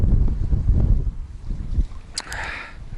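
Strong spring wind on a burbot fishing outing buffets the microphone in heavy low rumbling gusts, easing toward the end as a brief higher rustle passes.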